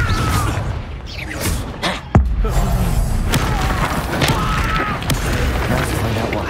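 A Confringo explosive spell fired in the Hogwarts Legacy video game, giving a single sharp booming blast partway through, set among loud, busy game combat noise.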